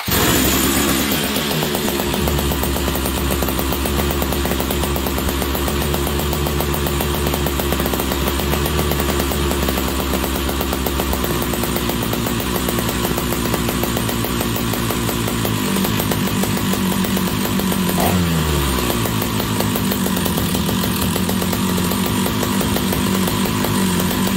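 An old big red chainsaw with a broken clutch spring runs loud and close, its two-stroke engine buzzing and rattling steadily, then dropping in pitch as it settles toward a rough idle near the end.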